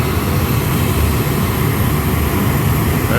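The auxiliary power unit of a C-17 Globemaster III running in the right wheel well, a loud, steady turbine roar and hiss heard close by without pause.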